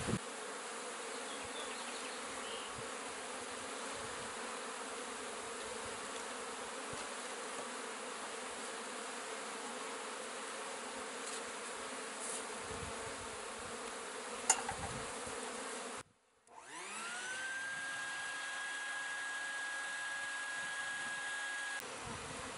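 A dense swarm of honeybees drones steadily at close range while their hive is being cut out and removed, the buzzing briefly cut off before a vacuum-like hum with a tonal whine joins in.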